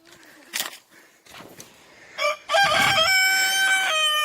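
A rooster crows loudly and close by in a chicken coop, a long harmonic call following a few short clucks and scuffling sounds.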